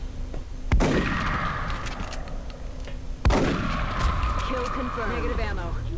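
Two sharp, booming shots from a rapid-fire weapon in the X-COM strategy game, several seconds apart, each ringing out in a long decaying echo over steady background game ambience.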